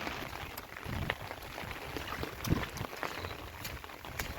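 Nighttime rain falls steadily in a soft, constant patter with scattered louder drops on nearby surfaces, heard faint and alone.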